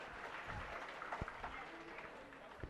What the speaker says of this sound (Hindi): ताली में क्यों बजाए?